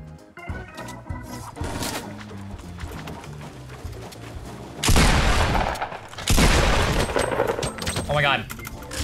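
Gunfire in the Fortnite battle royale game rattles in rapid bursts, with two loud, dense volleys in the second half over ongoing game effects and scattered clatter.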